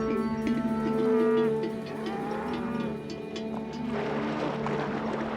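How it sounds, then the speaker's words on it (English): Cattle moo loudly and close by during a river crossing with a herder, calls overlapping in long, drawn-out bellows, with a deeper lowing rising toward the end. "River crossings are traumatic for little cattle."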